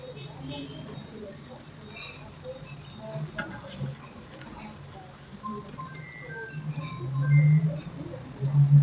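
Cheesy pizza sticks made without maida fry in hot oil until golden brown, giving a steady, low bubbling sizzle with scattered crackles that grows louder toward the end.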